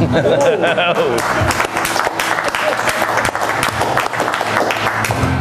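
Loud, sustained audience applause fills a magic performance, dense clapping continuing steadily throughout with a few cheers mixed in.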